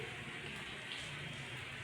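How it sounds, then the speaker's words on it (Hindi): Heavy monsoon rain pours in a steady, dense hiss that fills the whole stretch without a break, loud and close, with no voices. "इतनी जोर की झमाझम बारिश लगी हुई है कि रुकने का नाम नहीं ले रही है"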